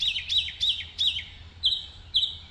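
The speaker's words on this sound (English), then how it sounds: "Blue jay off in this direction, so we're gonna put blue jay down." A bird calls in a rapid series of sharp, bright notes, then two more after a pause, somewhat distant, set against a low outdoor hum during a breeding bird survey count.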